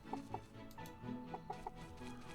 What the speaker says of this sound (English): I have to make a point of saying hello to the chickens